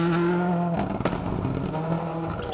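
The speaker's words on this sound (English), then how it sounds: "flying the MRF flag in that fantastic looking and sounding Escort Cosworth" A Ford Escort Cosworth rally car on the Cambrian Rally drives hard at close range, its engine note steady and then broken by a sharp crack and rough gravelly rumble as it presses on, with no voices.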